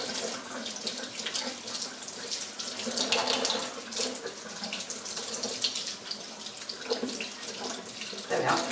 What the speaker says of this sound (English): you can see it's quite grubby. That's just the way that they grow, so you need to wash that.